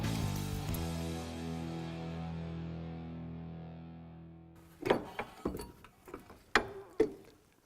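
A wrench works the strut mounting bolts on a car: a fading metallic ring first, then a short run of sharp, close ratcheting clicks in uneven bursts.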